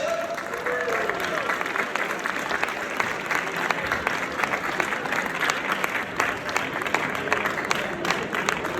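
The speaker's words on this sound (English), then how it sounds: "Give them a big round of applause." Audience at a fintech startup award ceremony applauding the second runner-up, dense sustained clapping from a large crowd with a few scattered cheers, continuous and fairly loud throughout.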